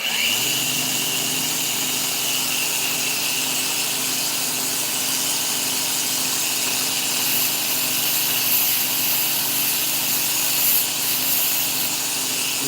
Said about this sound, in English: Let me go ahead and just get a little automated sanding done.